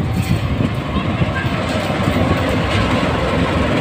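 Argo Sindoro passenger train passing near Cikampek station in Indonesia, a loud close rumble and steady rail clatter throughout, with a voice talking over it.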